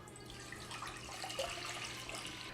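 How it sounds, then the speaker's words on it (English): Vegetable broth pouring into a pot for enchilada sauce, a soft steady liquid splash and trickle heard close and quiet with no talking. "The first thing we're gonna start out with is a vegetable broth. So just go ahead and add that in."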